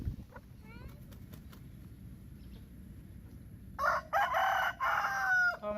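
Backyard chickens being called at feeding time: faint clucks early on, then loud, close rooster crowing in repeated bursts near the end, with a voice talking over steady outdoor background noise.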